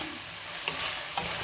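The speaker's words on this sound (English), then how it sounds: "When you stir fry with the bean sprout and the garlic chive, you just stir it quickly." Bean sprouts and garlic chives hiss loudly in a hot pan for fried egg noodles, a steady close sizzle with two quick scraping stirs.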